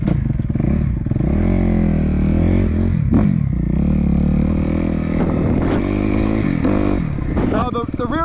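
A Suzuki RMZ250 dirt bike engine runs loud and close after a hot start, its pitch rising and falling with revs and a few throttle blips. Someone talks over the steady motor.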